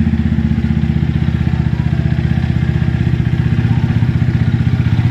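Venom X22R 250 motorcycle engine idling after fresh assembly, a loud close steady putter with a fast even pulse and no talk.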